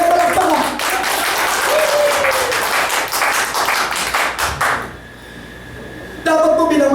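Congregation applause at a church service, dense clapping with voices mixed in for about five seconds, then a brief lull before clapping resumes at the end.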